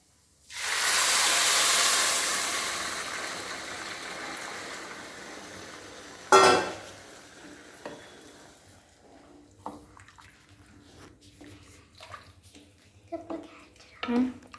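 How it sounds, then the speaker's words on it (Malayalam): Loud, rushing hiss as boiling water pours into a pan of hot rice, fading after a few seconds, followed by a sharp splash and quieter bubbling and clinks. "നമുക്ക് ഇതിലേക്ക് തിളച്ച വെള്ളം ഒഴിച്ചെടുക്കാം"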